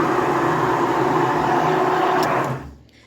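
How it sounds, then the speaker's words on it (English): An immersion blender whirs steadily through a soap mixture of oils, including coconut oil, and lime mixture, a loud, continuous motor drone that cuts off and winds down near the end. "So we have our immersion blender in our oils"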